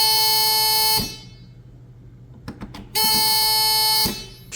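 Buzzer on a connected 110 block line, two loud sustained electronic tones about a second each, separated by a gap with faint handling clicks, close and harsh.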